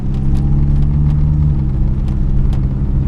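A Saab 900 engine pulls through a gear shift into second, a loud, close mid-pitched drone with steady low rumble and brief changes in tone, no voices over it.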